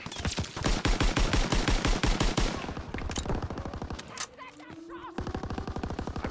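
Rapid automatic gunfire rattles loud and close in a World War II video game battle, a fast steady burst that fades, then further shots return, with players talking over it.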